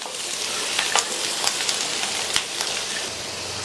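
Potato and carrot masala curry being stirred in a pan, a steady soft sizzle with scraping spoon strokes throughout, no voices.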